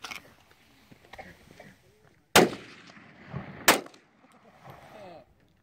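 An integrally suppressed 9mm carbine fires Hornady Custom Critical 147 grain plus P defensive ammo, two sharp, close reports a little over a second apart, with faint handling noise around them.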